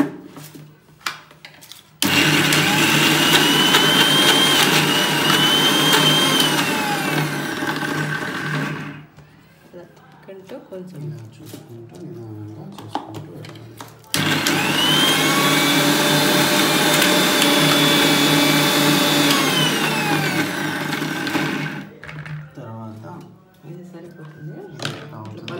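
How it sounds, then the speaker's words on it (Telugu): An electric mixer grinder whirs loudly through two long runs of several seconds each, blending large onions, ginger, turmeric and rock salt, with quieter clattering pauses between them. "కొంచెము పెద్ద ఉల్లిపాయలు వేసి మిక్సీలో వేయాలి."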